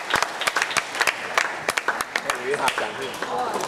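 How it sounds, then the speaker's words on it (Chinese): A lecture audience in a school auditorium gives scattered, uneven applause to welcome a host, with distinct individual claps, and a voice starts talking as the clapping thins out. "来掌声欢迎雪健老师。"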